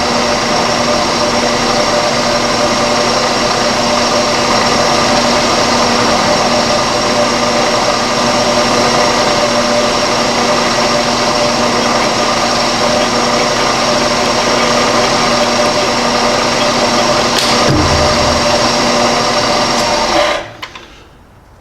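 A metal-cutting machine tool doing a boring operation on a metal workpiece, a loud, steady whine with constant tonal hum held for about twenty seconds before abruptly winding down at the end.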